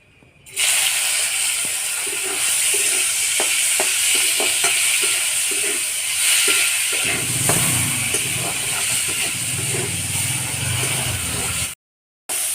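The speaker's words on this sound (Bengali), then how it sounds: "লবণ হলুদ মাখানো চিংড়ি মাছটা ভেজে নেব" Prawns coated in salt and turmeric dropped into hot oil left from frying potatoes, a loud continuous sizzle with repeated spatula taps, then a deeper bubbling fry before a brief cut.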